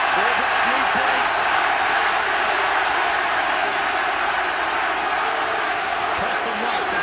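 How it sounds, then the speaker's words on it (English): A stadium crowd roars steadily through a 1993 rugby Test between New Zealand and the British and Irish Lions in Wellington, a broad sustained wall of noise with a commentator talking over it. "Now listen to the crowd roaring."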